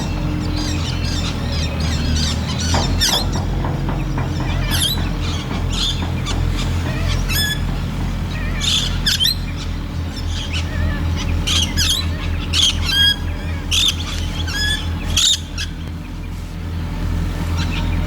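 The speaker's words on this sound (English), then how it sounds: "Parrot. I don't know what sort." Parrot squawking from riverside trees along a town riverfront in Australia, repeated harsh calls scattered over steady background hum, with other bird chirps mixed in.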